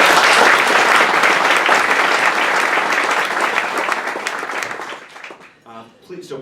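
Dense applause from a large audience at a West Seattle Chamber of Commerce Westside Awards Breakfast, loud and sustained for several seconds before thinning out, with a voice starting to speak as it fades.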